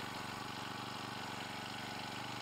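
A Honda GX35 trimmer engine runs at a steady idle after starting, a continuous close mechanical drone with no talking over it.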